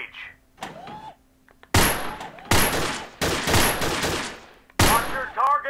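Allied SMG 26-40 submachine gun firing in the VR shooter Gun Club VR, with loud rapid bursts in several long volleys separated by short gaps, a voice speaking between them.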